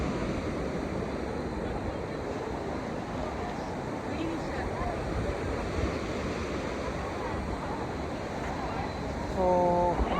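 Ocean surf washes against the rocks at Rock Beach in Pondicherry, a continuous rumbling roar of waves with wind buffeting the microphone and faint voices in the background.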